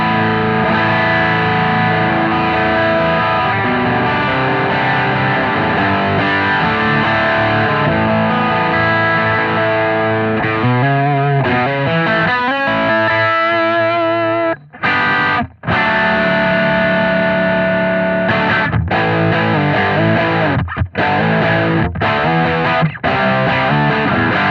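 Guitar through a Strymon Riverside overdrive pedal with gain just under three quarters, a thick, saturated distorted tone sustaining chords and riffs for over twenty seconds, with a couple of brief abrupt stops near the middle, loud and without voices.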